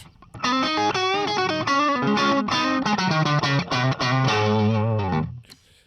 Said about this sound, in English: The sound you're listening to right now is the Fender Bandmaster reverb.